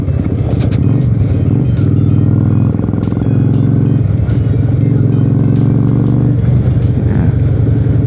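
A carbureted 1992 Honda Shadow 400 V-twin motorcycle engine runs loudly up close, its throbbing idle shifting pitch slightly as the throttle is blipped now and then.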